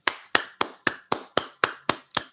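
Nine evenly spaced, sharp hand claps sound close and crisp in a steady rhythm, about four per second, with no voices.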